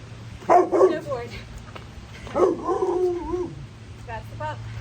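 A pup barks and yips in short bursts near the mic during a home strength and cardio workout, with an instructor's voice talking over it and a steady low hum underneath.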